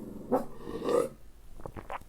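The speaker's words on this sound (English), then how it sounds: "the TV has a dog barking" A dog barks on a television, two muffled low bursts close together followed by a few fainter, softer sounds, with no one talking.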